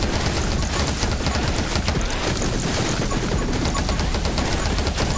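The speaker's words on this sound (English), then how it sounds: "I am shooting a lot of projectiles but not actually hitting them" Dense, continuous rapid-fire shooting of projectiles in the game 20 Minutes Till Dawn, a steady barrage of overlapping pops and bursts filling the whole stretch at a constant loudness, with no talk.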